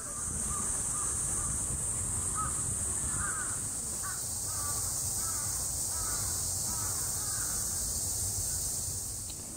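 Crows caw repeatedly in Japan, a series of harsh calls scattered across the stretch, moderately distant over a constant high hiss and low background rumble.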